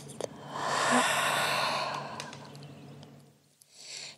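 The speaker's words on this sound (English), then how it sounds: "We'll take a full breath in here through the nose and exhale through your mouth." One long, full exhale through the mouth, close and breathy, swelling and then fading over about three seconds, with a short breath following.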